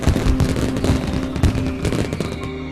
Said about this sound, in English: Every village stages dramatic firework displays.